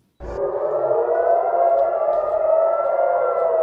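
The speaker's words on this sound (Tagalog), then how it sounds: "Agad tumunog ang mga sirena at alarm sa Israel." A steady, loud air raid siren in Israel starts abruptly and holds a sustained wailing tone without rising or falling.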